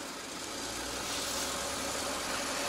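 A Mercedes W124 4Matic car engine idles steadily with a continuous low rumble and broadband hum, no voices, holding an even level throughout.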